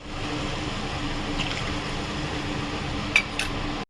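A bowl of yogurt and Kashmiri chili powder is rinsed into a pan with a steady wet hiss of liquid, ending in a couple of faint clinks.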